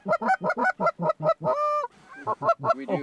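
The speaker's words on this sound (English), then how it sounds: "What are they? Honkers." Geese honk repeatedly during a duck and goose hunt, a quick run of loud, nasal calls followed by a drawn-out honk and a few more calls, close and clear.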